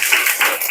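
Schoolchildren applauding in a fifth-grade classroom, a brief burst of dense, bright hand claps from many kids at once, loud and close.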